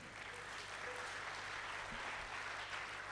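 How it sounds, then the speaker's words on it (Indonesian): Congregation applause during an Ascension worship service, a steady, moderately faint wash of clapping with no break and a low hum beneath it. "Kasih tepuk tangan dong."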